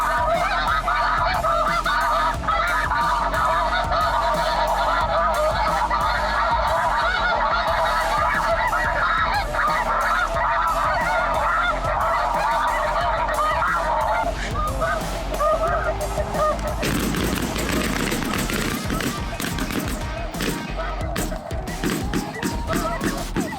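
A large flock of snow geese honks constantly and loudly during a Midwest goose hunt, a dense overlapping chorus of calls that turns into a rougher, noisier wash late on.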